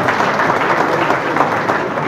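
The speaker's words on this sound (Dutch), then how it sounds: "Ja, daar mag u voor klappen." Audience at a New Year reception applauding, dense continuous clapping that stays loud and even for the full stretch, close and filling the room with no speech over it.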